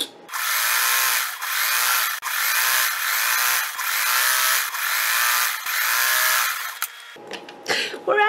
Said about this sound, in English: I'm going to just fold in a little bit, and I'm going to stitch.